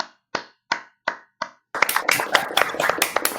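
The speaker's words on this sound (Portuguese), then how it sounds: "aplausos que estamos recebendo" Studio audience at a Brazilian talk show: five sharp, evenly spaced hand claps, then a dense burst of close, loud applause filling the rest.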